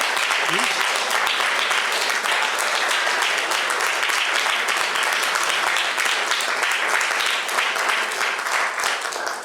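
A civil-society panel audience gives loud, sustained applause, a dense and even roar of many clapping hands close by, holding steady throughout with a brief voice near the start.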